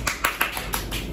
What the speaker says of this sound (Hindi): ताली बजा दी भाई, थोड़ी ने बजा दी।